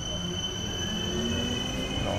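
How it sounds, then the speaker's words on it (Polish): An ŁKA Łódź agglomeration railway train pulling out of the new Łódź Kaliska station, a loud steady rumble with high whining tones running throughout, heard close from the platform. "a to LKA, łódzka kolej aglomeracyjna, pojechała"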